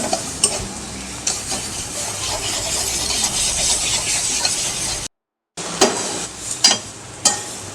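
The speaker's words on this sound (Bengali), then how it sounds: "খুব ভালো করে কচুর শাকের সাথে আমি মিশিয়ে নিচ্ছি চিনিটা।" Sugar being stirred into taro leaves cooking with a hilsa fish head in a pan, a steady sizzle and scrape of stirring running throughout, loud and close, with a brief silent break and a few sharper utensil knocks near the end.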